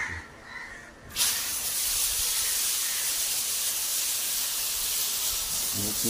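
Chicken liver drops into hot oil with tomato and the flame flares up, setting off a loud, sudden sizzle that turns into a steady, close hiss and keeps going unbroken.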